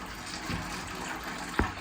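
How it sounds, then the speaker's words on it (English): Water trickles and gushes steadily from a bleeder valve on an outdoor shower being drained for winter, a continuous close wash of flow with a brief louder splash near the end. "And you can hear now more water's coming out."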